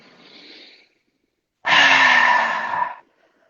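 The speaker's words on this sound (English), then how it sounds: "take like 3 big inhales through our nose and then 3 big exhales out of your mouth" A deep breath in through the nose, followed by a long, strong exhale through the mouth, close and fairly loud and heard alone, during a guided breathing exercise.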